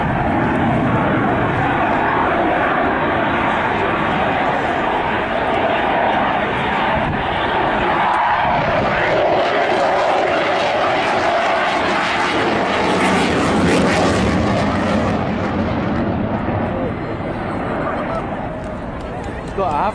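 RAF Typhoon jet with afterburners lit at the Teignmouth airshow, a loud, continuous roaring rumble that swells and sustains overhead, with crowd chatter and a commentator's voice mixed underneath.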